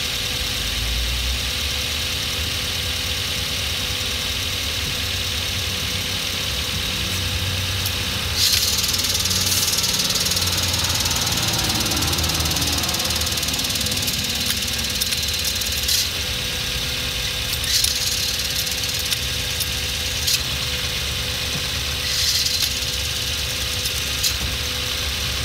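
A 2006 Hyundai Elantra with a clutch and transmission fault makes a strange noise: a steady idling engine hum with rattling, knocking and whirring over it, plus occasional brighter metallic bursts throughout.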